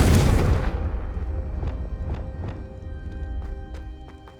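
A Confringo fire spell blasts in Hogwarts Legacy, opening with a loud booming burst that decays into a rumbling tail, followed by a few sharp, softer cracks spaced across the rest.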